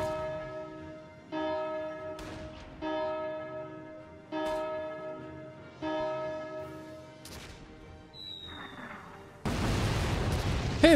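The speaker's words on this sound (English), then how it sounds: "Ring the bell, Kai." A heavy bell in the Valkyria Chronicles 4 war game tolls in a slow, regular series of resonant rings with long decays, followed by a loud, rumbling explosion-like burst at the end.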